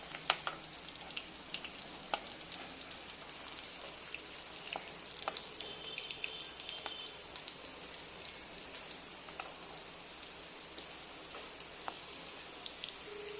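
Chicken frying in its own rendered chicken oil in a pan, a soft, steady sizzle with scattered pops and crackles running throughout, fairly quiet and with no voices.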